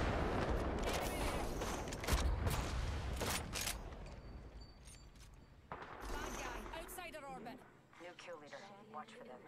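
Heavy Kraber sniper rifle shots and gunfire crack through chaotic Apex Legends gameplay, several loud blasts clustered in the first seconds, then more distant shooting and game effects, with players talking throughout.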